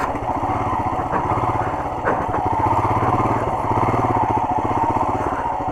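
A Royal Enfield Himalayan motorcycle engine labors at low revs climbing a muddy, slushy off-road slope, a throbbing, uneven rumble, throttle rising and dipping as it pushes along.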